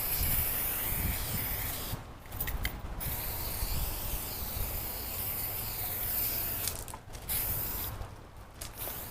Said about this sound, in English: So I'm just spraying a coat of this on.